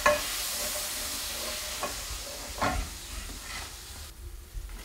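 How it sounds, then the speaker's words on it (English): A steak pan hisses and sizzles steadily after whiskey is added for a flambe, with a few sharp crackles and bursts, quiet and close, no talking. "a bit of flambe."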